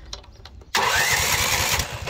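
A mini tractor's engine cranks as the ignition key is turned, starting abruptly after a short quiet pause and then roaring in a loud, steady, rough mechanical drone.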